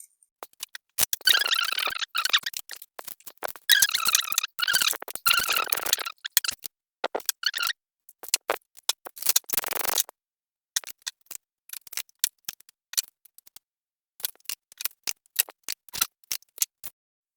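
Tarot cards being shuffled and drawn make crisp, close riffling and flicking sounds, first in dense bursts and then as sparse, scattered snaps and taps.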